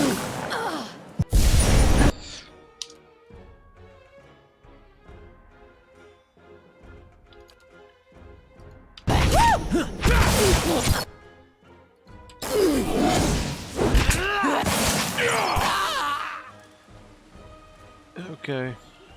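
A detonation spell goes off in the fantasy role-playing video game Pillars of Eternity, bursting in loud broadband blasts with swooshing magical effects, set amid game music.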